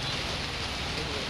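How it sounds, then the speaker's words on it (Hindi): Heavy rain pouring steadily during the Raja festival season, a dense even hiss filling the short clip with no pauses. "देखो के जोर वर्षा हो"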